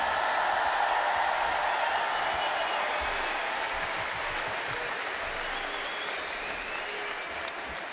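A large concert audience in an arena applauds the pianist of a French band's anniversary show, a dense, sustained wash of clapping and cheering heard from within the crowd that slowly fades.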